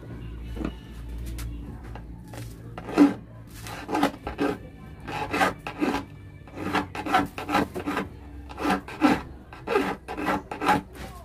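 A hand file rasps against metal while a fish dart (tiksay) is sharpened manually without power tools, with repeated short scraping strokes in an uneven rhythm, close and fairly loud, with no talking.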